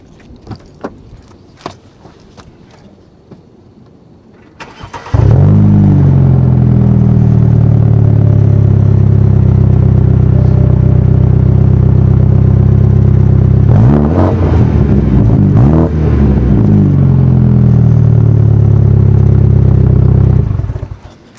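Faint clicks and rattles come first, then a warm BMW F30 engine starts and idles loud and close through its exhaust, with a brief rev blip in the middle before settling back to a steady rumble.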